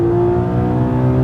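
A Porsche GT3 RS 4.0 on the Silverstone circuit gives a brief, loud, steady engine drone at constant revs, heard close up and alone.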